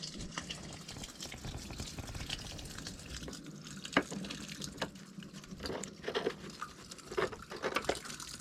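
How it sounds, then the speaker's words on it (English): Water runs into an open kitchen drain clean-out on a blocked kitchen drain, a close gurgling trickle with scattered drips and splashes, louder toward the end. "we'll continue to let that water run, and we'll see if it builds up."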